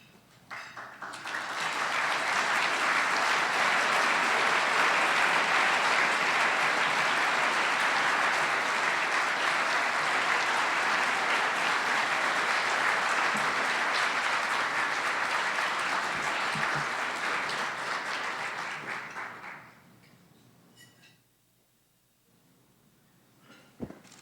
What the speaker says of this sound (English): thank you for your applause